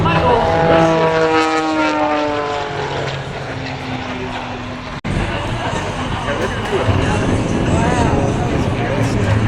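Aerobatic propeller airplane at the Great Florida Air Show 2021, its engine droning loud and steady with a shifting, Doppler-like pitch, while a commentator talks over it throughout.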